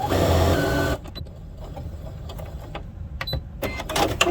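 A sewing machine stitches down the side of a cotton linen apron tie in a loud, close mechanical run that cuts off after about a second, followed by quieter handling clicks and rustles.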